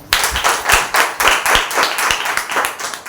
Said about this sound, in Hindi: क्यों ना हम जीवित परमेश्वर के लिए और आराधना टीम के लिए हम जोरदार ताली बजाएं